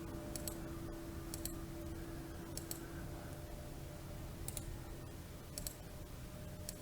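Mouse right-clicks while plotting curves and points in machine embroidery design software: sparse, crisp single and paired clicks spaced irregularly over a low steady hum, faint and close, with no talk.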